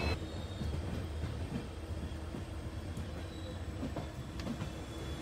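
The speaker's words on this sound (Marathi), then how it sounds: "तर हा समोर तुमच्या आता ही ट्रेन लेफ्ट साईडला लागेल" Train rumbling at Castle Rock station on the route to Dudhsagar waterfall in Goa, a steady close low roar of rolling wagons with faint rail clatter and occasional squeaks.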